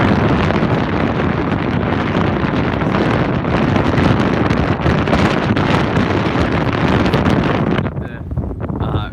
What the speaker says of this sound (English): So there's a lot of wind here.